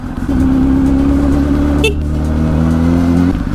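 A Honda CBR1000RR Fireblade sport motorcycle rides along at low speed through a town in March, its engine a loud, steady drone close to the mic, with a brief higher-pitched blip partway through and no talking.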